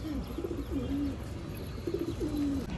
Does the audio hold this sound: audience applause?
no